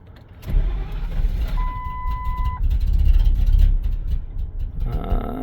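A V10 truck engine with every injector unplugged, running on gas vapors, rumbles loud and steady after a brief start, with a rough low drone holding through to the end.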